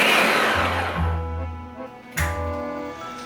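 A Ninja blender whines at high speed, winding down and then kicking back up with a sharp surge, a loud grinding motor hum.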